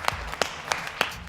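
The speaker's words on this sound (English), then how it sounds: "the actor suddenly started to clap his hands slowly" Slow hand clapping from an actor in a police station scene of a Joker movie, four sharp, evenly spaced claps roughly a third of a second apart over a quiet room background.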